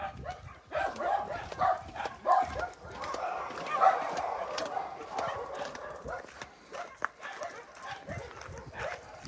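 Shelter dogs bark and yip in a new indoor room, several short barks scattered among movement and clatter, with a person talking intermittently nearby.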